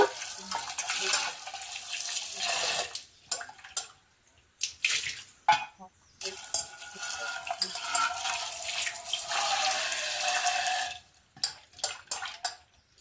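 Tamarind being rinsed by hand in a bowl of water in a kitchen, with repeated splashing and sloshing in bursts separated by short pauses, close and fairly loud, with no talking.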